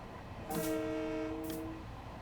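An electric Long Island Railroad train in Train Sim World 2 sounds a short horn blast over a low rumbling background, the horn holding for about a second and a half while a faint hiss rises and fades.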